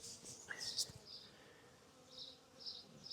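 A swarm of honey bees clustered on an SUV gives faint buzzing, with a few individual bees droning close past the microphone over a quiet outdoor background.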